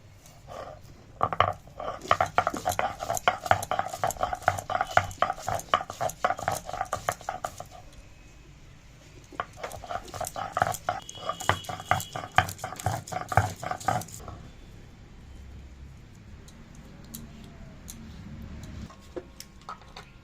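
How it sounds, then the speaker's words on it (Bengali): Ginger and garlic being ground into paste on a stone, a steady rhythmic scraping and knocking in two long bursts with a pause between, close and moderately loud, fading to quiet near the end. "এইবারে তুলে নেব আদা রসুন বাটবো"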